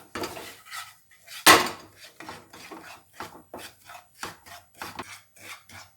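Semolina roasting in a little oil in a pan, stirred with a utensil in repeated short scraping strokes, a rhythmic dry rasp with one sharp louder clatter early on, close and clear.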